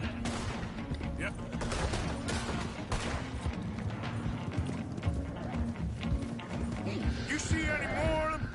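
Horses clip-clop along in Red Dead Redemption 2, a steady run of hoofbeats under busy game audio with scattered gunfire and voices talking throughout.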